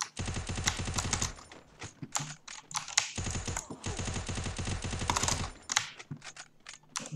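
Video game rifle, an SDV or AC, fires rapid bursts of automatic gunfire in several dense volleys with short pauses, crisp and fairly close.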